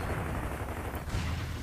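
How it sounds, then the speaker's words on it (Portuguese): A grenade explodes in the video game Gears of War 3 as a dense, continuous roar of blast and rumble that stays loud and steady throughout, with no clear separate impacts. "Granada do inferno."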